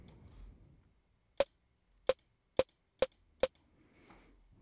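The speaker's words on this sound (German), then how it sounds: "Jetzt ist der Rimshot Sound fertig." Five sharp synthesized rimshot hits made in the Vital synth, crisp clicky percussive cracks spaced about half a second apart over a quiet background, with no talking.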